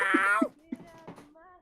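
A contented cat gives a drawn-out, tonal meow, followed by softer trailing mews and small chirps, close by in a quiet room.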